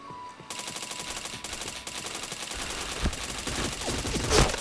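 Gunfire in a shooter video game: a steady stream of dense shots and bursts, with a sharper, louder report near the end.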